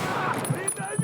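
Gunfire in the video game Escape From Tarkov, a few short muffled shots spaced apart, faint under a steady background bed.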